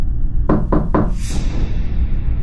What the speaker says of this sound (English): there was a set of knocks on my window